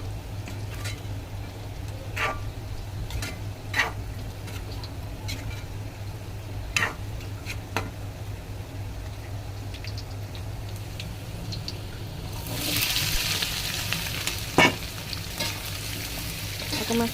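Rendang stirred in a pan over a stove after toasted coconut goes in: a steady low sizzle and frying hiss with occasional scraping ticks, growing brighter and louder toward the end, close up with no voices.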